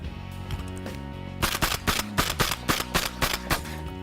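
Shotguns firing at clay targets during dove hunt practice outdoors: after a quiet stretch, a fast series of about eight sharp, loud reports comes in quick succession, each crisp and close.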